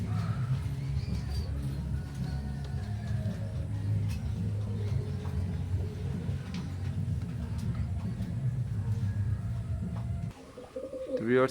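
Teddy 128 pigeons, an imported-bloodline breed, coo softly and continuously in a loft, with a low steady murmur and a brief shuffle near the end; no one speaks.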